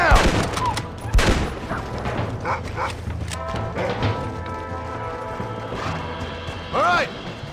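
Gunfire rings out in Red Dead Redemption during a shootout, several sharp shots and crashes scattered over a busy background, with shouting voices and other game effects mixed in.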